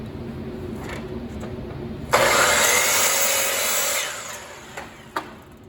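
A power saw bites into the end of a wooden piece for a short, steady cut lasting about two seconds, a bright whining buzz rising over a quiet background before winding down.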